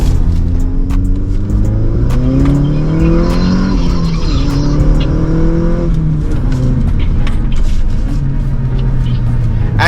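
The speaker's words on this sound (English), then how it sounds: "you can just press the full accelerator and it shoots off" A manual-swapped Skoda Octavia VRS230 making 320 hp, fitted with a Golf R gearbox and Haldex all-wheel drive, pulls hard at full throttle. Loud, close engine drone climbs in pitch through the gears with brief shift dips, steady and continuous.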